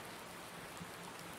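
Steady rain in the farming game Farming Simulator 19 on the Medicine Creek map, a continuous even wash of falling drops with no talk over it.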